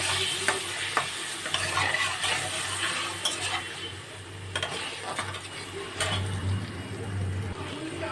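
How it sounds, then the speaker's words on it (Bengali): Spice masala stirred with a little water in a pan, a spoon scraping and clinking over a soft steady sizzle, with rhythmic strokes close by and no talk. "অল্প একটু জল দিয়ে ভালো করে মশলাটাকে নেড়ে নেব"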